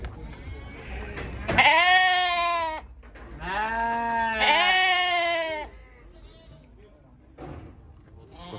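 Sheep and lambs bleating at a livestock market in Kyzylorda, several loud, drawn-out bleats close by, overlapping in the middle, with a short knock and a quieter bleat near the end.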